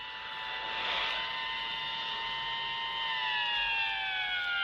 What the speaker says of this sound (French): la sirène d'une voiture de la police attira notre attention